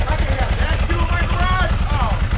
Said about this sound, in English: That's a Ducati engine right there.